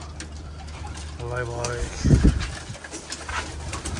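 Rampuri pigeons in a loft coo with soft repeated calls, plus a short louder burst of cooing midway, while someone speaks briefly over them.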